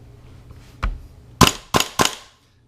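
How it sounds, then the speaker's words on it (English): A WE MK18 MOD 1 airsoft rifle fires on semi-auto: four sharp, distinct cracking shots, the first softer and the last three louder and close together, close by in a quiet room. "this is the gun on semi. It's actually pretty loud itself."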